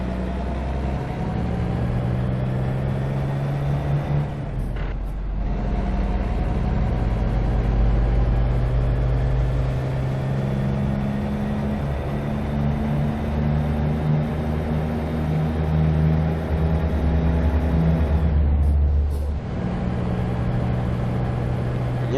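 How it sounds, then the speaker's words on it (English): Road traffic in American Truck Simulator on westbound Interstate 70 forms a steady, loud low engine drone and road rumble, broken by two brief dips. "There's a lot of traffic over there."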